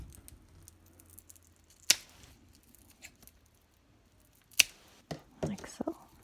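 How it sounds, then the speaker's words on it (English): Scissors snipping the folded corners of a fabric buddy strap: a few crisp, isolated cuts spaced seconds apart, close and quiet, followed by a cluster of small rustles and clicks. "And I'm going to cut the corners of the side that is folded."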